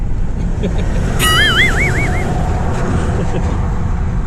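Cars and a truck pass on the road, producing a steady, loud roar of traffic and engine noise heard from a moving vehicle, with a brief warbling tone rising over the rumble.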